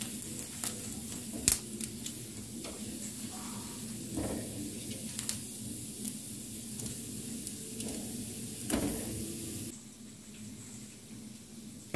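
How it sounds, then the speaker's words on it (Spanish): Garlic cloves and tomatillos sizzle steadily in a hot pan, a soft continuous frying hiss broken by occasional clinks and scrapes of stirring, with no talking. "Aquí ya le vamos a dar vueltecita al diente de ajo"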